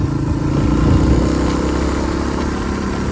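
A motorcycle engine idles steadily up close, a continuous low rumble with no talking.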